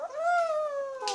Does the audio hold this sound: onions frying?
no